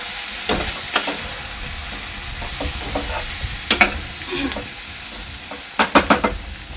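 Vegetables fry in oil in a pan for masale bhat, a steady close sizzle broken by a few sharp scrapes and clatters of stirring, with a cluster of them near the end.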